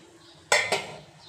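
A dish set onto a stand inside a pot of hot water for steaming eggs, then covered, giving two close metallic clinks of cookware about a fifth of a second apart, with no talking.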